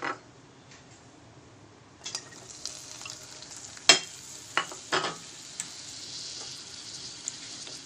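Onion and garlic fry in two spoons of oil in a pan, a quiet sizzle broken by several sharper stirring scrapes and crackles.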